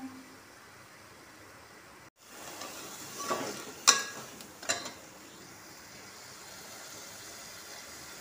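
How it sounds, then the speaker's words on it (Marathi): Crab curry simmering in spice masala, a soft steady sizzle interrupted by a brief dropout, then a few clanks and scrapes of stirring before settling back into a low cooking hiss. "मसाल्यामध्ये खेकडे शिजून राहिले मित्रांनो।"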